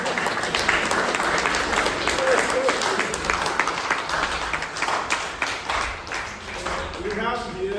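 Church congregation applauding together, a dense, steady wash of clapping that fills the whole stretch and eases slightly toward the end, with some crowd voices mixed in.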